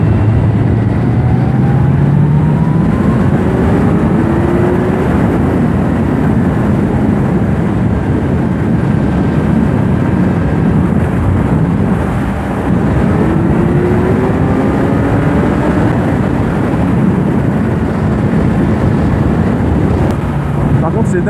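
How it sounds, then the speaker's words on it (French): A Kawasaki Z900 four-cylinder motorcycle cruises on a highway, its engine droning loud and close under heavy wind rush, with pitch sweeps rising as it accelerates through the gears. "un 4 cylindres ça a un super bon bruit"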